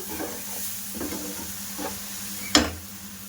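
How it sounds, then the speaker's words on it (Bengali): Semolina toasting in a pan over a low flame for palm-fruit jilapi, stirred with soft scraping strokes over a faint sizzle, then one sharp clack of the spoon near the end. "সুজিটা প্রায় ভাজা হয়ে গেছে"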